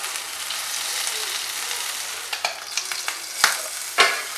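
Kerala-style anchovies frying in a pan: a steady, hissing sizzle, then a series of sharp scrapes and clatters as the small fish are turned over one after another, growing louder toward the end.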